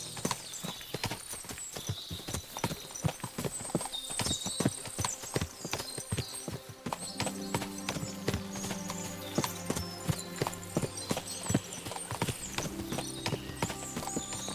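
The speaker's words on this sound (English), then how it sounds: "What a lot of horses!" Many horses' hooves clip-clop in a dense, overlapping rhythm in the video game Kingdom Come: Deliverance II, with music-like tones joining midway and an occasional whinny; no talking.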